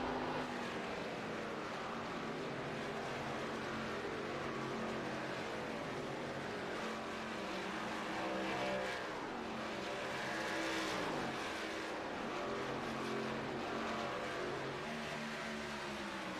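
Race cars circling the Indianapolis track in an eSpeed Sport race, a continuous droning engine roar with rising and falling pitch sweeps as cars pass, steady and moderately distant.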